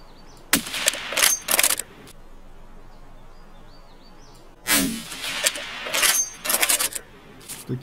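Escape from Tarkov gunfire: sharp bursts of shots in two clusters, close and loud, separated by a quiet pause.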